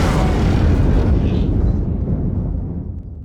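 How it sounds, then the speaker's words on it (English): In the video game Ace Combat 5: The Unsung War, a missile strikes the ship Kestrel with a loud, deep explosive boom that rumbles and fades over about three seconds. "The Kestrel just took a missile hit."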